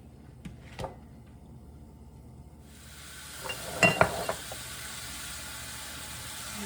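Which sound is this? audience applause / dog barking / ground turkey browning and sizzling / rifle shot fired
ground turkey browning and sizzling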